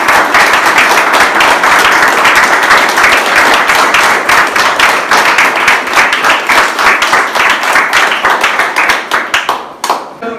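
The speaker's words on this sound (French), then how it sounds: "je crois que l'on peut vous applaudir très très fort" A room of guests claps loudly and steadily for Colette and Jean-Marie's golden wedding anniversary in Saint-Abraham, the dense applause holding strong for about ten seconds before thinning out at the end.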